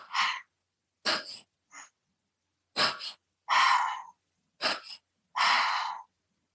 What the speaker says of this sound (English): So you're doing 2 breaths in through the mouth, 1 breath out through the nose.